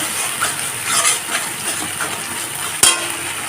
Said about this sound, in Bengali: গ্যাসটাকে এখন লো ফ্লেমে রাখবো আর এইভাবে হালকা কষে নিয়ে